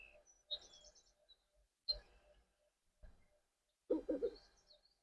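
A cartoon owl in the Avatar World game gives short, soft calls and chirps, a few separate bursts spread over several seconds against near silence, quiet and alone.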